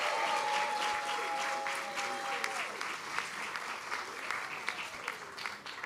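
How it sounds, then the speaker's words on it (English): An audience at a public library grand opening applauds teachers with sustained clapping that gradually thins out, while a faint tonal sound lingers in the first half. "give them a big round of applause"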